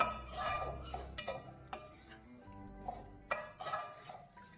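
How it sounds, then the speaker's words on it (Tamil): A giant bitter lemon pickle gets stirred and mixed in a pan, with metal clinks and scrapes of a spoon against the pan coming in irregular bursts, fairly close, with no talking. "நல்லா கிளறி போட்டு எல்லாத்தையும் நல்லா மிக்ஸ் பண்ணிடலாம்"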